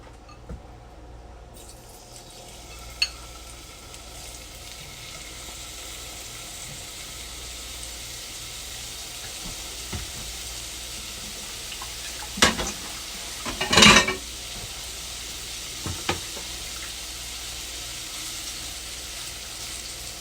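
Shrimp seasoned with Mrs. Dash Caribbean blend frying in olive oil, a continuous moderate sizzle with a few sharper pops and stirring clicks midway, nearby and with no one speaking.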